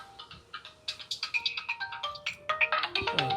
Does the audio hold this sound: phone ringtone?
yes